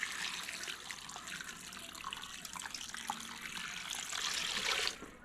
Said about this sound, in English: And then I'm just going to fill this up to the max with water.